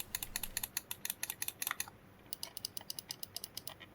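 Rapid microswitch button clicks on a Shanwan Q34u game controller, sharp crisp taps in quick bursts, loud and close with a brief pause midway, no talking.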